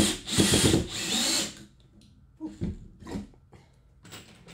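A power drill whirs loudly and steadily for about a second and a half while assembling the frame of a smokehouse BBQ grill cart. A few lighter clicks and knocks of parts follow, then quiet.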